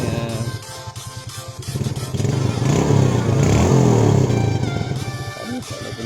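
Yamaha Jupiter Z motorcycle engine idling and revving up close, a steady chugging that swells into a louder sustained rev before easing back, with faint clatter underneath.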